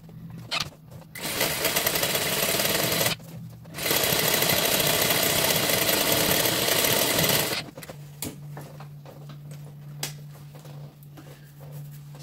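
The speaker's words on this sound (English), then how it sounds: "then I'll start doing gather stitch for the" A sewing machine runs a gather stitch on tulle in two long, steady, loud bursts of rapid needle chatter. Quieter pauses separate the bursts, with light handling noises and a low hum afterward.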